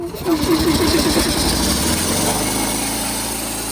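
An RS300DX sprayer machine's pump runs with a loud, steady mechanical drone, an early pulsing chug settling into a continuous hum that fades slightly toward the end.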